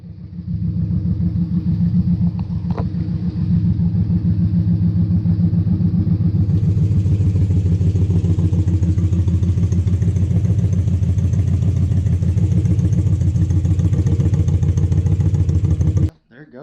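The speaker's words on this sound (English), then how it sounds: "There it goes, it's idling." A 1988 superbike, long abandoned, idles with a steady, close, rumbling engine pulse that runs continuously and then cuts out abruptly at the end.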